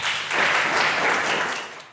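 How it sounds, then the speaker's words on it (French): An audience applauds a student speaker at a public talk, loud sustained clapping that swells and holds throughout without talking. "Applaudissons Joinyena."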